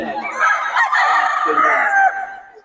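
A young rooster, a stag, lets out a single loud, close crow lasting about two seconds, hoarse and slightly strained, fading out at the end.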